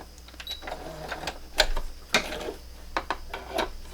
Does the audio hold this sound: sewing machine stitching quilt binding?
yes